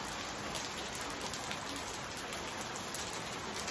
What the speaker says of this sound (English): So take a look at this. Real rain.